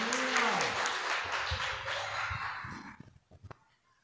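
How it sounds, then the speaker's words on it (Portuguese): Church congregation applauding at a Father's Day service, a broad clapping roar with a voice faintly over it that fades out near the end, leaving a few scattered claps. "Vai ficando em pé e aplauda o Senhor bem forte"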